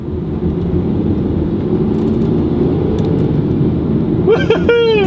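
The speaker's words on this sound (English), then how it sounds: "I guess the only thing to do is take it on the road and test it out" A MINI fitted with BMW paddle shifters drives on the road, a steady low engine and road drone from inside the car, with a voice speaking briefly near the end.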